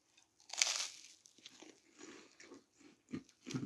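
Crisp bite into a tortilla fajita filled with Wotsits and mayo, one loud crackling crunch followed by several softer chewing crunches, close up with no talking.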